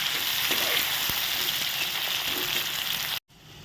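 Chopped tomatoes fry in hot oil in a pan, a steady dense sizzle like rain hissing close by, cutting off abruptly near the end into quieter hiss.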